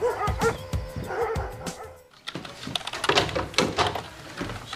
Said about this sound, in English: Oh my God, security let out the dogs.